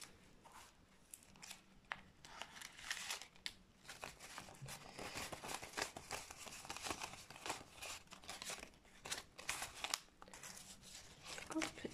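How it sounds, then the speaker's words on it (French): Paper cash and a paper savings envelope being handled, with dense crinkling and rustling in short bursts throughout, close and fairly quiet, with no talk. "on va remplir ma petite enveloppe de défi"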